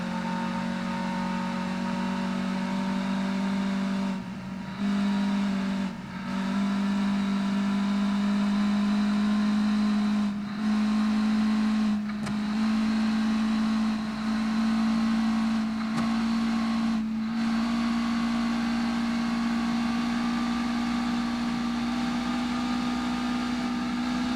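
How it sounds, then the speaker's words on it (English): Race cars in a video game set at Lakeside raceway drone with a steady, loud engine whine and layered harmonic tones, broken by several brief dips as other cars pass or shift, with no talking. "Oh, you can hear those other cars though."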